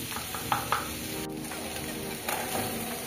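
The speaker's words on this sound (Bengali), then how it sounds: "এবার মশলাটা ঠিকঠাক ভাবে কষে নিচ্ছি একটু" Spice masala with turmeric, chili powder and tomatoes sautéing in a pan, a steady soft sizzle with a couple of sharp stirring clicks early on.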